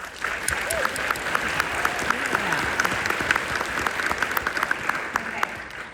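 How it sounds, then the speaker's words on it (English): A crowd gives a final round of applause, a dense, steady wash of clapping with crisp individual claps on top and some cheering voices mixed in. "Let's give them one last round of applause."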